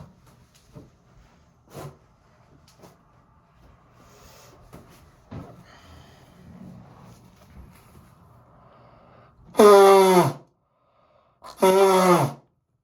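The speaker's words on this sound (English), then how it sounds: "gotta go blow my nose" Two loud, harsh nose blows into a tissue, each about a second long, close by, following quieter rustling and small handling noises.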